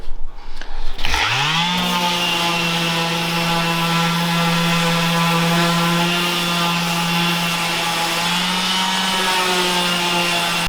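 A power sander on wood starts up with a rising whine, then runs steadily at a loud, constant pitch for the rest of the time.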